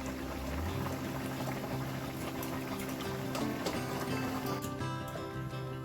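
Fish curry with potatoes and cauliflower bubbles steadily in a pan on a gas stove, a continuous close, moderately loud simmer without any talk.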